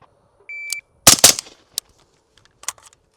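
Suppressed rifle shots: a burst of two loud, closely spaced muffled cracks, then a lone sharp crack and a fainter one, with an electronic timer beep just before.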